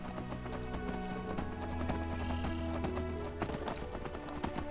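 Horse hooves clip-clop in a steady rhythm while riding in the modded Skyrim Special Edition game, up close and continuous over low background music, with an occasional faint whinny.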